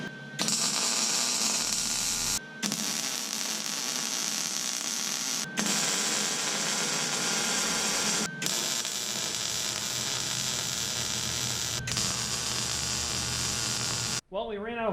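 Wire welding on the steel frame of a welding cart comes as a close, steady buzzing crackle in several long bursts, each a few seconds long and separated by brief pauses.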